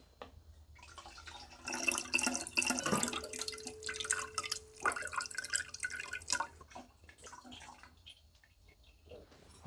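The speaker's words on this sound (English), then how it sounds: "Okay, now we will add our lemon juice. I'm just using bottled lemon juice here" Bottled lemon juice pours into a hard lemonade brew with splashing, trickling liquid sounds and a few drips, fairly quiet and close, with a bottle clink midway.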